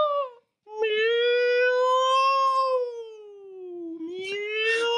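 A singer's voice imitates a cat's meow, a long sustained wavering tone rising and falling like a drawn-out miaou, with a short pause near the start and a brief breathy ending.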